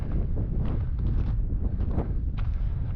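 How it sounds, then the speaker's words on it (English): Strong wind on open hill land in Glen Esk, Scotland buffets the microphone in a constant loud roar, with gusty thumps and rustling throughout. "So windy."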